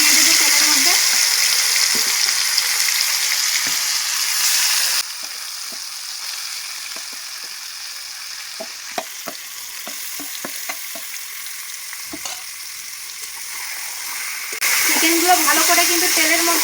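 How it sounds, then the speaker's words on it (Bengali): Marinated chicken for a restaurant-style biryani sizzles and fries in hot oil with steady crackle, interrupted by scattered stirring clicks and scrapes in the pan; the sizzle drops quieter through the middle, then swells loud again at the end. "আমি কিন্তু চিকেনের মধ্যে জল দেব না তেলের মধ্যে ভালো করে আগে কষিয়ে নিতে হবে"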